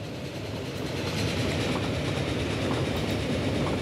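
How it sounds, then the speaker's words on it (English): A train rolls past in the Transport Fever railway-building game, a steady, loud broadband rumble of wheels and carriages that swells slightly and holds without talk. "Hello, train."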